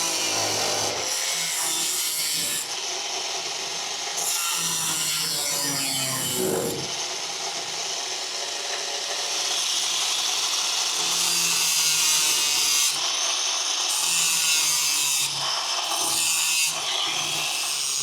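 Abrasive disc running along a gap in a weld workpiece, giving a steady, loud grinding rasp with brief pauses and shifts in pitch throughout, no talking.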